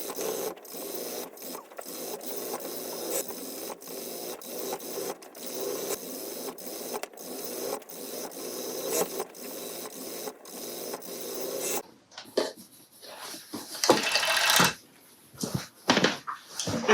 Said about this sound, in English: I'm just gonna serge the edges.